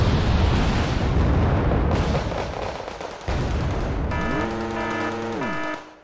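Tank battle in the video game Wargame: Red Dragon, North Korean heavy tanks pushing: dense, continuous rumble of explosions and gunfire fills the stretch, later joined by a rising and falling whine, before trailing off at the end.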